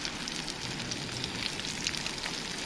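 Constant crackling sizzle of fish frying in a pan, a fine hissing texture with tiny pops, moderately quiet and with no talking, at a wild camp in the Lake District.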